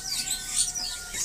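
A caged crested white-eye (Zosterops dehaani) sings from a bird-market stall with a rapid run of thin, high chirps and twittering notes, fairly close and steady, with a faint constant tone in the background.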